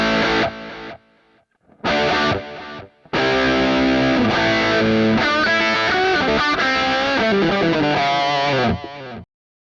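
Electric guitar played through a distortion preset on a Valeton GP-5 multi-effects unit, loud and saturated, with two short bursts and then a sustained riff of chords and notes that cuts off cleanly into silence.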